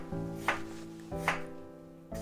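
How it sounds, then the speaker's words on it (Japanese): Knife chopping vegetables on a cutting board while making hayashi rice: a few sparse, crisp knocks spaced out over steady background music. "これはもう半分に切ってタンタンタンタンタンと切っていく"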